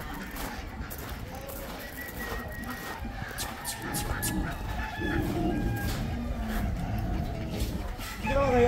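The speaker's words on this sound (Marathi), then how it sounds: "ही आपल्या फार्मवरची सगळी पिल्लं आहेत" A crowd of free-range country chickens and chicks clucks and chatters steadily in the background on a poultry farm, with a rooster's crow rising partway through over the busy barnyard noise.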